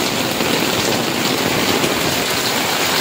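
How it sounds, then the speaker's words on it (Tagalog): Heavy typhoon rain in Rizal pours in a dense, steady hiss, loud and close, with no pauses and no voices. "grabe no, lakas ng ulan"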